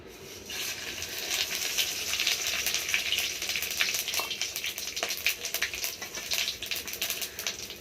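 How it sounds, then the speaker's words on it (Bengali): Whole spices, cumin, bay leaf and dried red chillies hit hot oil in a karahi for tempering, giving a sustained crackling sizzle with sharp pops and light clinks throughout, no voices. "এবার ফোড়ঙের মশলাটা দিয়ে দেবো"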